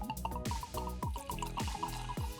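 Maker's Mark Cellar Aged bourbon whiskey glugs and trickles as it is poured from a bottle into a glass, a quick rhythmic gurgle of liquid up close and fairly quiet.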